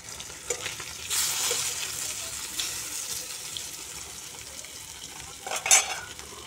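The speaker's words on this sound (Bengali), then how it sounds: "আর এখানে 2 পিস ভাজছি।" Two fish pieces frying in oil, a soft sizzling crackle with louder flares, mixed with what sounds like running water nearby.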